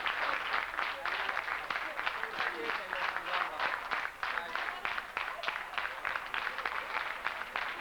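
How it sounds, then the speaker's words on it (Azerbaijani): An audience claps at a school's 30th anniversary celebration, a dense, steady patter of many hands sustained throughout with voices mixed in. "Alqışlayaq."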